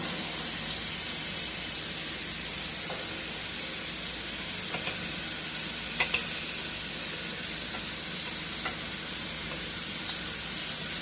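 Red pepper cooking down in a hot pan for baked spaghetti gives a steady, loud, close sizzle with constant hissing and a few faint pops and stirring scrapes throughout.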